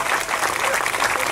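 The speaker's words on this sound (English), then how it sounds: "Give them a round of applause" Crowd applause at the 2018 unveiling of the Louis Tikas statue, a dense, steady wash of clapping from many hands that holds evenly loud for its whole short length.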